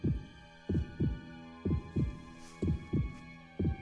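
Heartbeat sound effect from the video game Utawarerumono: Mask of Deception, deep paired thumps repeating at a steady rhythm, loud and close over a faint background hum, with no talking.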